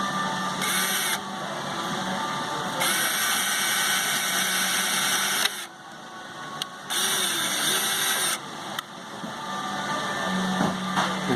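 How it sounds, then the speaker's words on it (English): A power drill boring holes through a sheet of plexiglass, its motor whining in several bursts of a few seconds each with quiet pauses between, close and fairly faint, no talking. "Let the drill do the work."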